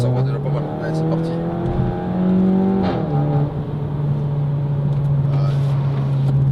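A Seat Leon FR 1.8 TSI accelerates with a loud exhaust note that climbs in pitch, dips at a shift and then settles into a steady drone, while people talk inside the car.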